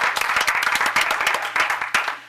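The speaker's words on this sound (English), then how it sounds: "I see some applause in the front row" Applause from the front row of a town board meeting, a steady patter of many hands clapping at close range, loud and continuous throughout with a faint low hum underneath.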